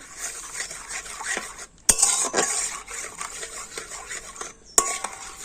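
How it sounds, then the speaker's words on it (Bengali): Powdered milk being whisked into water in a bowl for homemade sweets, a spoon scraping and clinking against the bowl in uneven strokes, close and clear, with two sharper knocks against the rim. "জলের সাথে গুঁড়ো দুধটা ভালো করে গুলে নেবো"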